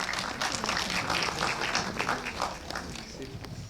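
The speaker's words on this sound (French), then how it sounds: "Bravo, on l'applaudit" An audience applauding at a film festival's closing ceremony, a busy patter of many hands clapping that carries on steadily and fades slightly toward the end, with a voice briefly audible over it.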